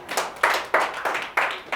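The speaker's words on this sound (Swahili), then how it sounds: "tuwapigie makofi tena" An audience at a motivational talk claps in a few quick, rhythmic bursts, loud and close, with no voices over it.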